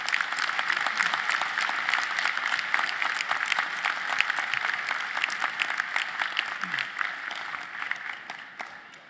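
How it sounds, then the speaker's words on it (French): Steady, sustained applause from an audience at a municipal New Year's greetings ceremony in Marly, many hands clapping evenly for several seconds and slowly tapering off. "Si vous voulez bien applaudir."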